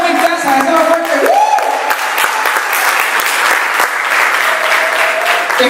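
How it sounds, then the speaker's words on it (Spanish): Audience applause welcoming a priest to a church gathering: loud, dense clapping that holds steady for the whole stretch, with a faint tonal hum underneath. "Lo recibimos con un fuerte aplauso."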